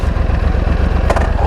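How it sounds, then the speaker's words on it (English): A Yamaha YZF R1 superbike engine idles with a loud, close, rapid pulsing rumble, its firing beats steady throughout the short stretch. "Fire up the engine."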